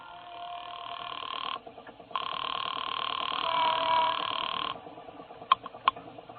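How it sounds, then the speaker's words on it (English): A payphone rings in a radio drama sound effect at a gas station: a steady electronic tone that breaks off briefly, resumes for a few seconds, then stops, followed by two short clicks. "I stopped at a gas station on the strip and used the payphone"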